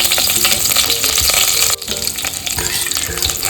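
Cumin, curry leaves and green chilli sizzle loudly in hot oil for a cabbage stir-fry, a dense, steady crackle that dips briefly midway before resuming just as strong.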